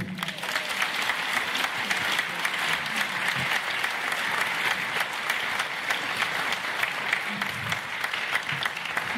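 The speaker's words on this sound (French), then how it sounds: "Je vous demande d'applaudir Mathilde Panot." Sustained audience applause at a political meeting in Montreuil, a steady, even wash of many hands clapping without a break.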